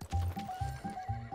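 A horse in the Realm Royale video game gives a high, wavering whinny over a run of quick, hollow hoofbeats, close and clear with no talk.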